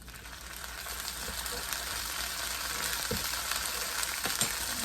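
Birria meat frying in a pan of hot grease, a steady low sizzle with scattered small pops and crackles, heard close and fairly quiet, with no talking.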